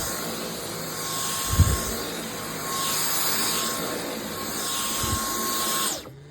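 A Dyson V10 Animal cordless stick vacuum running on boost gives a steady, loud whine with a high tonal hum, swelling and easing slightly as it moves, with a couple of low bumps before it cuts off near the end.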